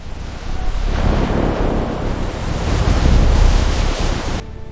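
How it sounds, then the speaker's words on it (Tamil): Stormy sea with heavy surf and strong wind roaring together in a loud, continuous wash that swells and falls over several seconds, with no voices. "கர்த்தர் கடலில் ஒரு பெரிய காற்றை அனுப்பினார்"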